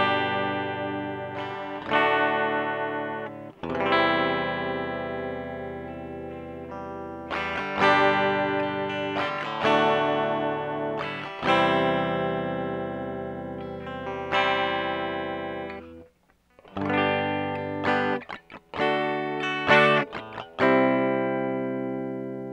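A 2024 Squier Classic Vibe 70s Jaguar electric guitar played completely dry through an audio interface, with strummed chords and single notes ringing out in uneven phrases, loud and close, with a brief gap before playing resumes.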